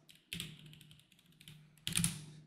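Quick taps on a computer keyboard as a password is entered, two short bursts of close, quiet keystrokes separated by a brief pause.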